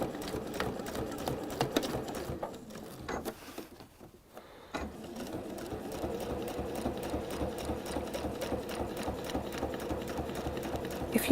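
A sewing machine doing free motion quilting runs in a steady rapid needle rhythm, briefly pausing and slowing before resuming at a constant pace, close and clear with no talking.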